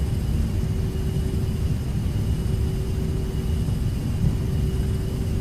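Steady low engine rumble and hum of a Toliss A321neo airliner taxiing in the X-Plane 12 flight simulator, an even, continuous drone with a faint tonal whine and no talking.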